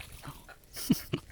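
A hunting dog makes short whimpers while playing with a heron outdoors, two brief sharp yelps standing out over soft breathing and faint background noise.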